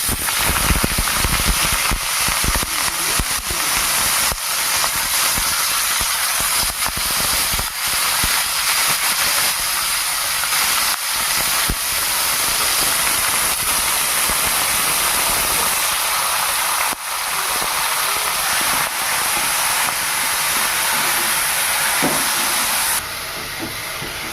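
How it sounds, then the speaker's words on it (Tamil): Drumstick leaves sautéing in hot oil for a homemade pickle or thuvaiyal, giving a steady, loud sizzling hiss that runs unbroken for the whole stretch with no talking. "மறுபடியும் அந்த இலையை வதக்க தேவையான எண்ணெய் இலை போடுறேன்"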